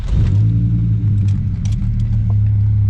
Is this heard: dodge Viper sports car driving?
yes